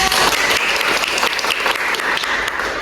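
A small group of students in a peer counseling class session bursts into steady, dense applause, close and continuous throughout.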